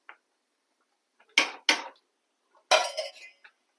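A thick-bottomed cooking pot is handled on a kitchen surface, giving three distinct metallic clanks, the last longer and ringing, with quiet gaps between them.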